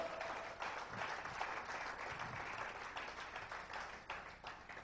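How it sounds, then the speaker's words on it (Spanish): A church congregation claps together in a loose, rhythmic burst of applause that rises and falls in waves, moderately distant and rather quiet. "dale ese fuerte aplauso"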